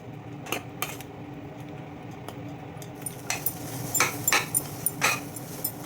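Spoon scraping and clinking against a pan while a thick lentil and jaggery filling is stirred, a few sharp scattered metallic knocks over a low steady background hum, with no talking.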